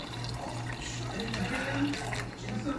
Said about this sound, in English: what I'm going to do is I'm going to pour some of that liquid inside here